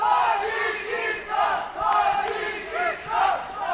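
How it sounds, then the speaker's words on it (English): Crowd at an Olympic taekwondo semifinal bout cheers and chants in loud, swelling waves, with a large contingent of supporters roaring for Tajikistan in rhythmic surges. "Large contingent in the crowd supporting Sharifova and cheering for Tajikistan."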